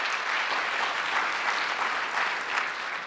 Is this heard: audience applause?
yes